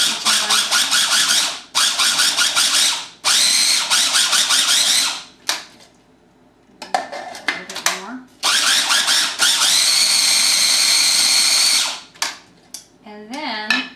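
A food processor blends apricot butter in loud whirring bursts, several long runs and shorter pulses with brief stops between, each whine shifting in pitch as the blade spins up and down.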